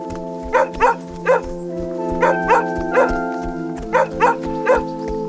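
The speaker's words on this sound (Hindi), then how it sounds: "रुक, अभी तेरे ऊपर कुत्ते छोड़ता हूँ।" A dog named Moti barks repeatedly, about nine sharp, loud barks mostly in quick pairs, over a steady droning tonal background with no talking.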